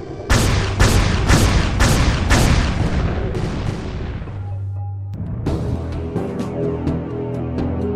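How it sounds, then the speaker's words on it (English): Turret fire in the 1997 PC game Defiance: a rapid string of loud booming shots, about eight in a row, then a brief pause and more sustained blasting with a ringing tone. No voices. "Watch out, pilot. Live turrets ahead."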